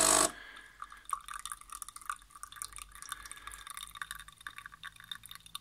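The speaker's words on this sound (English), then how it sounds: "no more water, just some droplets." Water droplets drip from a Nespresso Pixie coffee machine after a short burst of flow at the start, then scattered small, close drips and trickles into a cup.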